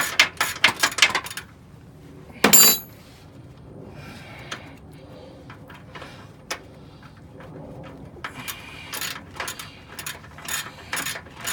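A hand ratchet loosening idler arm bolts under a vehicle, with rapid clicking bursts near and fairly loud, then quieter intermittent clicks and tool handling, with faint background noise between.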